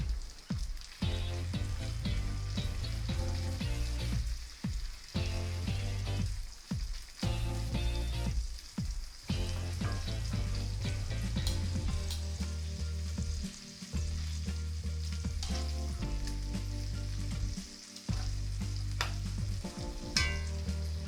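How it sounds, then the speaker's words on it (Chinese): Duck liver frying in a pan over high heat with shallots and garlic, a steady close sizzle and crackle throughout with occasional stirring and turning noises, no voices. "让鸭肝的2面都可以煎黄，时不时的翻一下面。"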